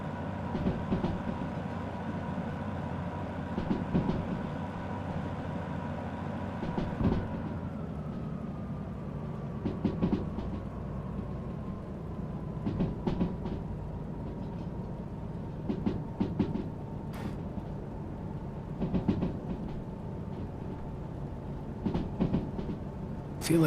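Freight train rolling in the Derail Valley game: a steady low rumble with a hum that drops in pitch, punctuated by repeated clacking wheel beats over rail joints, loud and close.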